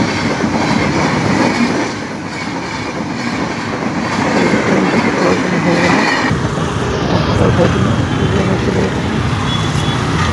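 A train rumbles past close by through a village, with a loud continuous roar of wheels and wagons on the rail line that holds steady for the whole stretch.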